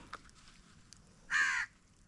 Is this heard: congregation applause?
no